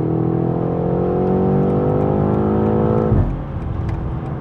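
A 2023 BMW M8 Competition set to its M2 sport mode revs loud and close, its engine note climbing steadily for about three seconds before dropping abruptly into a lower, rougher drone.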